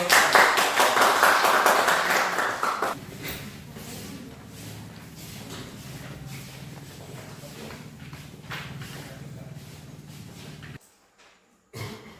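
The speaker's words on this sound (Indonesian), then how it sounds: "Kita berikan aplaus untuk" Audience in a classroom presentation applauding loudly for about three seconds, followed by a quieter room with low murmuring.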